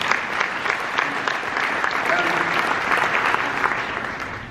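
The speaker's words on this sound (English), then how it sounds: "Thank you, give them a round of applause." Audience at a Canadian Red Cross awards event gives a round of applause, a full, even roll of many hands clapping that swells slightly and then starts to fade, with no speech over it.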